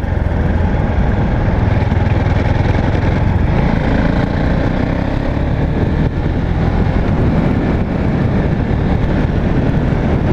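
A Husqvarna 701 Vitpilen single-cylinder motorcycle being ridden, its engine a loud, steady, continuous drone with wind roar and no pauses throughout.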